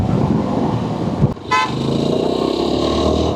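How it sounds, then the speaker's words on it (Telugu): A single clear car horn honk cuts through steady road and engine noise on a Yezdi Adventure motorcycle ride, loud and close, about a second long. "చూడండి సింపుల్గా ఒక హారన్ కొడతాడు"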